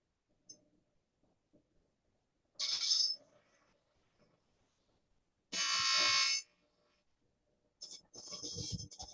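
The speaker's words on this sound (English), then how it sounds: "I'm just going to go to the bench grinder." Bench grinder squaring the worn end of a cheap Allen wrench: two or three short, bright bursts of grinding separated by quiet pauses, fairly faint and with no talk over it.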